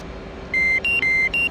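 Maverick missile lock-on tone in a flight simulator: a clean, loud electronic beep pattern of four short tones, alternating between two pitches, over a low steady cockpit hum.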